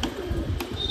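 Pigeons on a rooftop give soft, low cooing, steady and fairly close, with a faint high chirp near the end and no talking.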